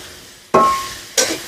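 Prawns and masala are sautéed in a pan, heard as two loud, abrupt bursts of sizzling and stirring that each fade quickly, with a quiet gap between them.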